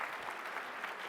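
An audience applauds steadily, a dense wash of clapping from a crowd that holds at an even, moderately loud level for about a second with no voices on top.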